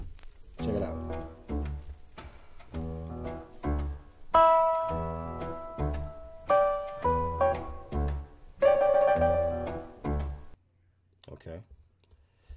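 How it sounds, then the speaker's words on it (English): Piano sample from a bought album plays as a series of rhythmic chords and melodic notes, thin and somewhat lo-fi in tone, steady and moderately loud before stopping abruptly near the end. "I got a piano sample, and this is basically it right here"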